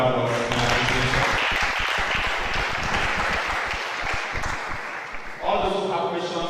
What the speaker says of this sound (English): for Dr. Oko and for Sister Lucille, please, one more time, a round of applause in appreciation.